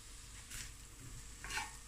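Chopped spring onions fry in a pot over raised heat as a quiet, steady sizzle, with two soft scraping sweeps of a spoon stirring through them.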